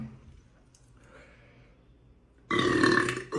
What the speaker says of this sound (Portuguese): Depois soltar ele e dar um arrotão, tá ligado?